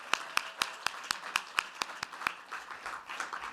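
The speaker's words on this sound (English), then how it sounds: "Let's give them a warm round of applause" Sparse applause at a university faculty award ceremony, a handful of distinct claps ringing out in a steady rhythm before fading into softer, scattered clapping.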